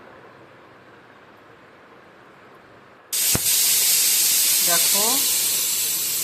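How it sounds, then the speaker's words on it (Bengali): A pressure cooker on a gas stove holding mutton keema curry suddenly lets out a loud, steady hiss of escaping steam partway through and keeps going after a brief spoken word. "আর এই ঢাকা বন্ধ করে একটা সিটি মারবো"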